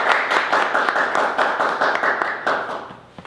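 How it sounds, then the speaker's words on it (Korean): An audience applauds to welcome a speaker at a forum, with steady, fairly loud clapping from a small crowd that fades slightly near the end. "모두 좀 박수로 맞아주시기를"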